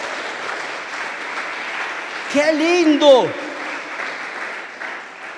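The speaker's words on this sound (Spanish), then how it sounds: "Denle un aplauso a Dios." A church congregation claps steadily throughout, a dense, even wash of applause with one voice briefly exclaiming over it midway.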